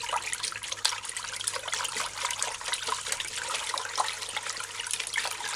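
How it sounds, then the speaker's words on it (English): Hands swirl bulgur and rice in a bowl of water, making a soft, continuous trickling and sloshing with small splashes, fairly quiet and close. "Rotate your hand and your fingers in the water. Wash bulgar and rice clean."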